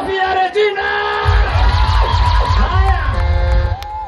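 Crowd at a gathering cheering, whooping and clapping loudly for Regina, a steady burst of applause with shouts and yells that swells after the first second and carries on to the end.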